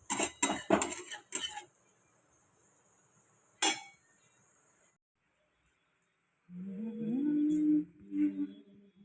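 A metal pot of boiled bitter gourd and raw banana is lifted off a stove with a quick run of close metallic clinks and clatters, a lone clink after a pause, then a voice speaks briefly.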